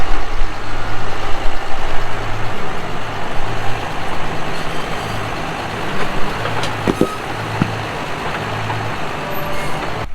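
A tractor engine runs steadily and loudly up close as the tractor moves a massive rock across a field, with a low pulsing drone and a few sharp hissing or clanking bursts partway through.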